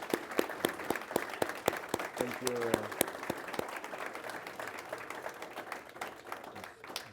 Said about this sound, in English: Let me lead a round of applause.